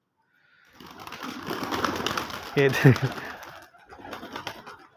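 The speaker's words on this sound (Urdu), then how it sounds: "سارے کبوتر چھت پہ" Home pigeons on a rooftop coo softly in a low, throaty burble, a few close calls rising over rustling background while someone speaks nearby.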